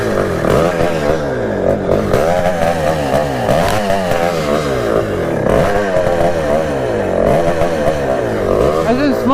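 A Kawasaki KX420 420cc two-stroke dirt bike with an air leak runs after a bump start, its loud, buzzing engine idling close by and surging in uneven revs, with voices mixed in.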